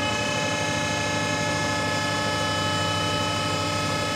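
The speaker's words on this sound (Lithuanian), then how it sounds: "Dar kartą klausom Bernardo Reismusą." A Bernardo DH 410 S thickness planer idling with a constant loud motor hum and whine, even and unbroken throughout.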